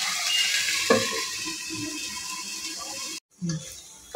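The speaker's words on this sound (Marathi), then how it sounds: "टोमॅटोच्या प्युरीला पण आपल्याला चांगलं तेलामध्ये परतून घ्यायचं आहे" Tomato puree frying in oil in a pan while cooking rajma curry, giving a steady, close sizzle with a few stirring knocks and a brief pause near the end.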